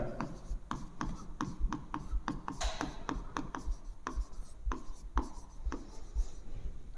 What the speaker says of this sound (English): first draw the circuit diagram